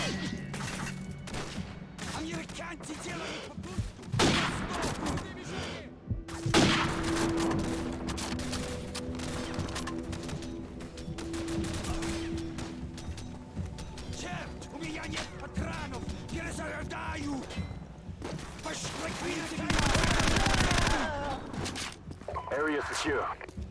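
MP5 submachine gun fire in Call of Duty 4: Modern Warfare, with scattered bursts and single shots mixed with footsteps and mechanical clicks, heard beneath ongoing talk.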